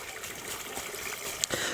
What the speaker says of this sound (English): It's turning the entire waterway into one beautiful, flowing, living, invigorating stream of fresh water.